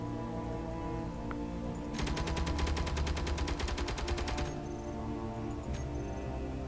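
Rapid automatic fire from a gun turret in Space Engineers, a steady burst of evenly spaced shots lasting about two and a half seconds over a low ambient hum, with a couple of faint clicks before and after.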